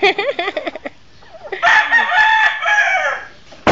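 Rooster crowing up close, a loud drawn-out cock-a-doodle-doo after a run of short clucks, ending with a sudden sharp burst.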